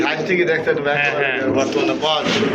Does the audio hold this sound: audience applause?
no